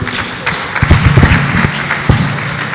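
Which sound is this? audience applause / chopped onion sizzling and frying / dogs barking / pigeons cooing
audience applause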